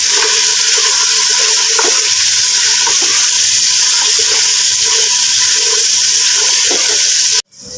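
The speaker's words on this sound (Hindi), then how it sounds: "अब हमने अपनी वड़ियाँ ऐड करनी है इसके अंदर, और इसको मिक्स करना है।" Wadiyan are stirred into spices in a hot pan for Punjabi aloo wadiyan ka salan, giving a loud, steady frying sizzle with scraping stir strokes throughout, cut off abruptly near the end.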